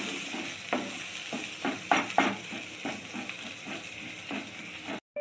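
Spice paste for prawn malai curry fries in a pan, a soft sizzle under repeated scraping stir strokes with a few louder clacks of the spoon, nearby and moderately quiet.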